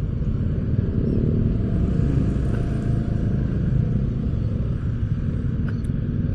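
A Savart S1-P Insigna motorcycle crawling through congested stop-and-go traffic, with a steady close low rumble of engines and passing vehicles, continuous and fairly loud throughout with no talk.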